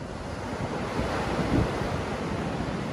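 Ocean surf rolls in at Carpinteria State Beach, where driftwood debris litters the water, a steady loud wash of breaking waves mixed with gusty wind buffeting the microphone throughout.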